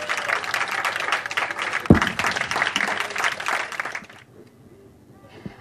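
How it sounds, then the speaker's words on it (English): An audience applauds as a presenter is introduced, with dense clapping and crowd noise, a thud partway through, then the applause cuts out into a quiet room with a few faint sounds. "let's start the applause going"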